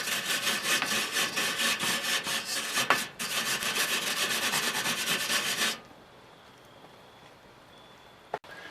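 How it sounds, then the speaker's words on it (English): Grate of a fire pit grill being scrubbed with an oiled rag or brush, a rapid rhythmic rasping back and forth, close and steady for nearly six seconds with a brief break, then quiet with one sharp tap. "clean the grate off, dip it back in the olive oil and lube it"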